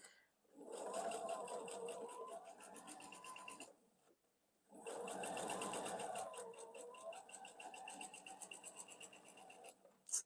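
Sewing machine stitching quilt block pieces, a close steady mechanical whir in two long runs separated by a short pause, with a brief clack at the end.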